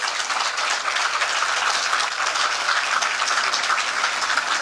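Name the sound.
audience applause at public meeting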